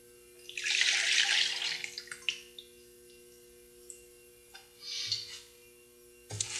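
Ceramic glaze poured from a vessel back into its container: a loud liquid splashing pour for about a second and a half, then scattered drips and small trickles, with a second shorter pour near the end.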